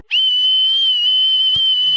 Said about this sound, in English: Weakest whistle I've ever heard.